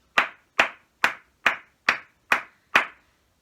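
Seven single hand claps in an even, steady rhythm, evenly spaced and close, each crisp and cleanly separated, with no other sound between them.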